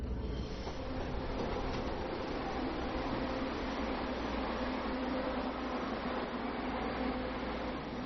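Packed passenger train running on a line in Taiwan: a steady, loud rumble of carriages and wheels, constant throughout, with no talk.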